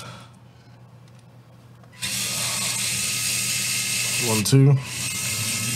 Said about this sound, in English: So we're going to remove the last two screws on the transmission.